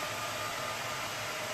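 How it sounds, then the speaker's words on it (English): A hand-held blow dryer speeds up drying paint on a Dollar Tree craft pumpkin being given a faux concrete finish, producing a steady, continuous whoosh of airflow with no talking. "I got my blow dryer here because I'm cheating. I'm going to speed it up a little bit."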